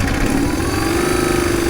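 A cold BMW R1100GS motorcycle engine idles steadily with a low, even throb, loud and close, with no voices.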